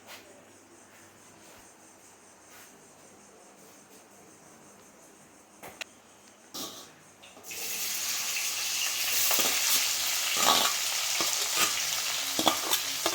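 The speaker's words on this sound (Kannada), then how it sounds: "ಈರುಳ್ಳಿ ಹಾಕಾಯಿತು. ಈರುಳ್ಳಿ ಚೆನ್ನಾಗಿ ಫ್ರೈ ಆಗಲಿ." Sliced onions dropped into hot oil with whole spices such as cardamom and star anise for a fish dish: a quiet start, a few clatters, then a loud, sustained sizzling from about midway on.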